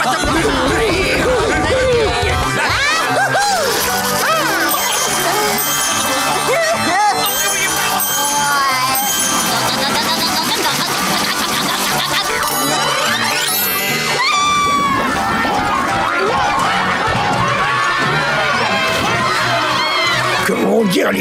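Cartoon children at a summer camp cheer, shout and scream in excited chaotic bursts, with voices talking over the loud crowd noise throughout.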